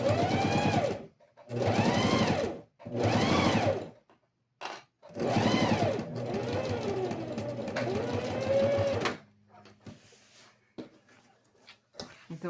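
A sewing machine stitches a safety seam on the lining of a small fabric box, running in several short bursts and then one longer run. It is close and fairly loud, and a voice talks during part of it.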